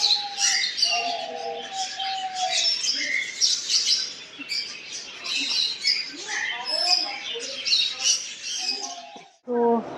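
Birds squawk and chirp steadily at a bird park, a busy overlapping chorus of loud calls and tweets up close, with a person speaking under the calls.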